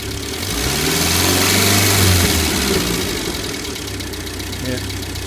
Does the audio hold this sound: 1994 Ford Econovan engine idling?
yes